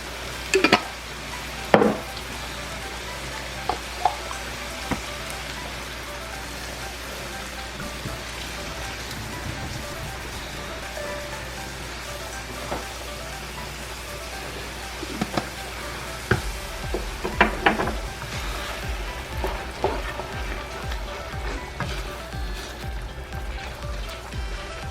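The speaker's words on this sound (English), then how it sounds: "So I just add my sauce." Spaghetti sauce poured into a hot pan with garlic and ground turkey, giving a steady rain-like sizzle with scattered crackles and pops throughout, fairly soft and continuous with no talking.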